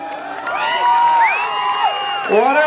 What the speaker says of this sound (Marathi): या कुस्तीसाठी एकदा जोरदार टाळ्या होऊ दे